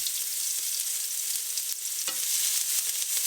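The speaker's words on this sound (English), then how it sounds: "Stir-fry the onions until they become fragrant." The white part of green onions stir-fries in a teaspoon of oil in a pan over high heat, a close, steady hiss with occasional spatula scrapes.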